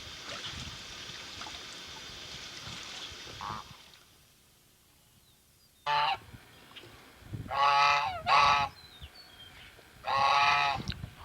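Geese honking on a farm where they graze mostly on green grass and roots: four loud, close bursts of honking in the second half, after a stretch of faint outdoor background and a brief quiet gap.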